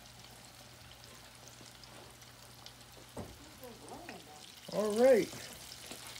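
Catfish fries in a pan with a faint, steady sizzle low in the background, joined near the end by a brief spoken voice and some clatter.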